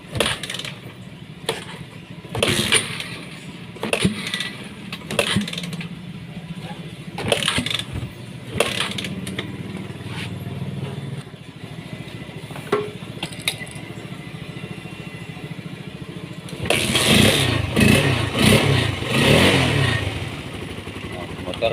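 A Honda CB150R motorcycle with a starting fault cranks in repeated short bursts before its engine catches and revs louder near the end, with someone talking between attempts.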